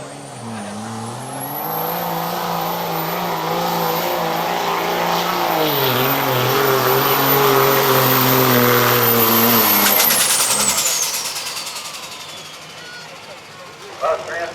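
A diesel truck at a truck shootout builds boost, its engine roaring loudly with a rising, sustained whine before cutting off near the end, under a commentator's voice.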